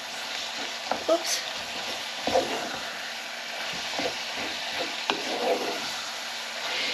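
Mince cooks in a pan with OXO stock, giving a soft, steady sizzle broken by light scraping knocks as it is stirred, quiet and close, with a brief voice speaking.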